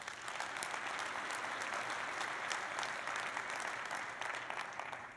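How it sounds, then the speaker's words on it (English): Audience at the AU 2012 Leadership Forum closing session gives a speaker a sustained round of applause, a dense, even roar of many hands clapping that runs the whole stretch before tapering slightly at the end. "Let's give him one more round of applause"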